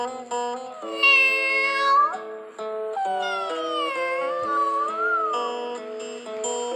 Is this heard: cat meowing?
yes